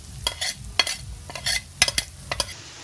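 Bacon and ground meat fry in a pan for a carbonara with cream, a steady low sizzle broken by close scraping stirs and clinks of a utensil against the pan.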